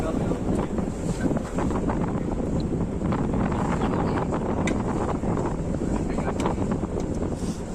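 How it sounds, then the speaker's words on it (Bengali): Strong wind in the Sundarbans buffets the microphone in a constant roar, with water churning beneath and faint voices now and then. "প্রচুর হাওয়া চালাচ্ছে।"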